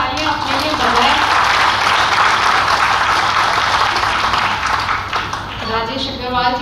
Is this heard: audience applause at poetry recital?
yes